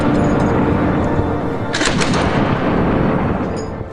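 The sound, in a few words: gunfire in a battle with Russian positions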